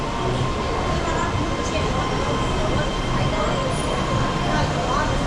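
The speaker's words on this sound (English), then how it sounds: "we're going to get in this train" Dense, steady roar of a passenger train in motion in Chongqing, China, passing through a building, rumbling wheels and rushing noise filling the space with faint voices underneath.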